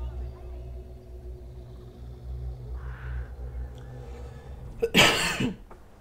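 One close, harsh cough bursts out near the end, after a stretch of low steady rumbling hum.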